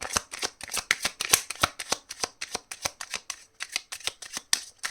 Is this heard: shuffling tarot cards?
yes